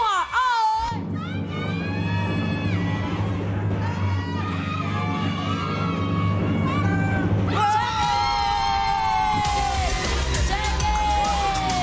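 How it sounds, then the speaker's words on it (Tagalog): A game show studio audience shouts and cheers loudly and continuously, a dense roar of many voices with high excited whoops rising over it, jumping even louder partway through. "Sigaw lang kayo ng sigaw!"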